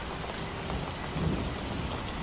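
Cartoon-style thunderstorm on a stormy spring night: dense, steady roar of heavy rain with low rumbling thunder swelling beneath it, loud and continuous with no voices.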